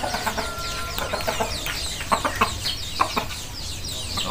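Several chickens cluck and chatter in a busy, overlapping chorus with sharp repeated calls, close and loud, with no talking.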